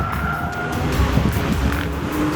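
A race car on a lap of Monza sweeps through the Parabolica with the front end pushing wide, its engine droning steadily from inside the cockpit with a faint tire scrub.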